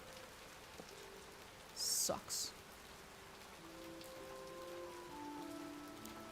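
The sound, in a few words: rain falling in the video game The Necromancer's Tale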